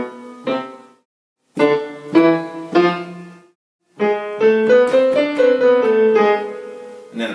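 A creepy, sneaky scale played on an instrument with the same notes in two octaves at once: short separated phrases first, then a longer run of sustained notes stepping along, clear and close with no talk.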